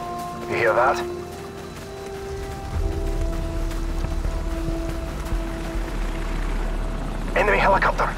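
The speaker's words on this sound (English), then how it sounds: "Enemy helicopter! Get down!" An enemy helicopter approaches in Call of Duty 4: Modern Warfare, its low steady rotor rumble growing beneath a wet outdoor ambience while soldiers talk over it.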